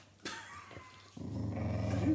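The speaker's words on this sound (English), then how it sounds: "These are the crazy dogs." Two excitable dogs in a home growl at close range, starting with a brief scuffle and then settling into a sustained, rising low growl that grows louder toward the end.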